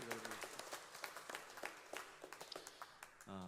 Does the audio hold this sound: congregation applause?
yes